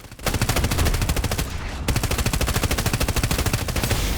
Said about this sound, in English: when you fire the machine gun at an armored vehicle, it does absolutely nothing